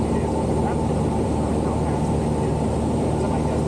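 A light propeller airplane in flight, heard from inside the cabin with the engine throttled back from 2,600 to 2,300 RPM: a loud, steady, close droning hum with a low harmonic throb, continuous and unbroken throughout.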